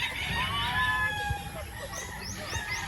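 A rooster crows near chicken coops outdoors, several drawn-out calls heard at moderate distance over a steady background of other fowl and ambient noise, with people talking faintly.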